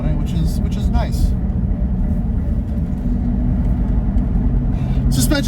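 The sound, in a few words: Range Rover Classic V8 engine while driving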